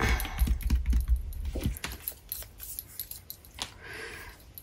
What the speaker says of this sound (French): on va déjà gommer notre petite marque